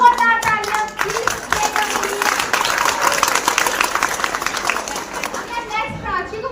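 A crowd at a school farewell party claps vigorously in a full, sustained burst of many hands, while children's voices and chatter mix in, with speech heard at the start and end.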